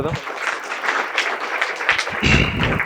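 An audience at a meditation gathering claps, a dense patter of applause building and swelling over a few seconds, moderately loud with a voice speaking over the start.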